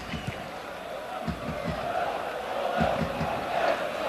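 A big stadium crowd at Estádio das Antas applauds and roars through a FC Porto versus Werder Bremen Champions League match in 1993-94. The sound is a steady, dense wash of noise that swells slightly near the end, with a commentator talking over it.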